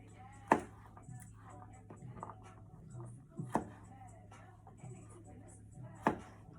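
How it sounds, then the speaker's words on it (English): A knife cutting the root end off garlic cloves on a cutting board, three sharp, distinct chops spaced a few seconds apart, close and clear over a quiet background. "Cutting that off, only cutting that off because I want to use this whole piece of garlic"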